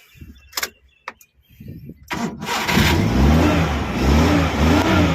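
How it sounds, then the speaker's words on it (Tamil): A few clicks and a brief crank, then the carburettor engine of a 2009 Maruti Suzuki Omni van catches and settles into a steady, close idle that keeps running. "இப்போ வண்டியை ஸ்டார்ட் பண்ணி காமிக்கிறேன் பாருங்கள் ஃப்ரெண்ட்ஸ்"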